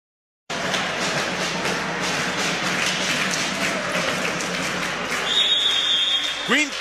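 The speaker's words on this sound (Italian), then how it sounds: "esce tra gli applausi" Crowd applause fills a basketball gym during an Italian Serie B game as a fouled-out player leaves the court, a steady loud wash of clapping and crowd noise with a commentator talking over it.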